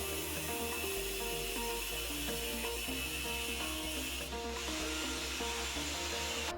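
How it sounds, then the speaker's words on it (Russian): A steady whining angle grinder with a vacuum's roar cuts baseboard tile continuously, loud and close, with faint rubbing and scraping throughout. "Ребята приловчились отрезать плитку плинтуса болгаркой с пылесосом"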